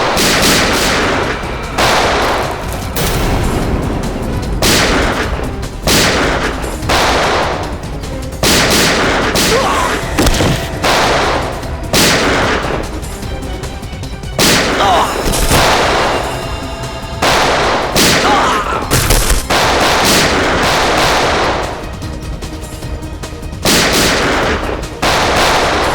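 Gunfire fills a TV crime drama shootout: repeated loud, close shots and bursts crack out in dense, irregular volleys, joined by booming impacts, with almost no let-up.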